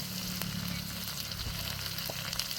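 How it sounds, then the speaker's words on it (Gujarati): Dry garlic and curry leaves hit hot oil in a cooking pan, giving a steady, close hiss and crackle of frying that holds at an even level throughout. "તો મિત્રો આપણું તેલ ગરમ આવી ગયું છે. આપણે નાખી દઈશું સૂકું લસણ, મીઠો લીમડો નાખશું"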